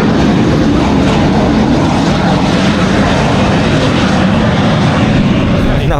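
An airplane taking off or landing on the Gibraltar airport runway, a loud, close and continuous engine roar that stays powerful throughout.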